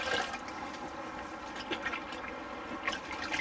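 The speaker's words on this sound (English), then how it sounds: "I just want to get the floor wet." Water poured onto a concrete shower floor during a school bus conversion, a steady, faint splashing wash that runs unbroken for a few seconds.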